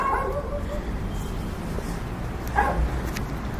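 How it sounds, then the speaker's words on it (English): A dog barks a few times at a distance in an abandoned cemetery, the yips brief and faint against steady outdoor background noise. "I just heard a dog."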